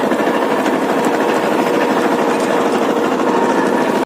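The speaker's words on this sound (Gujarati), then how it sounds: "આપણે આંબાની અંદર આવી ગયા છે અને રોટાવેટર ચાલુ કર્યું છે" A tractor-driven rotavator churns and rattles steadily while tilling soil beneath mango trees, a dense, continuous mechanical clatter close by that never lets up.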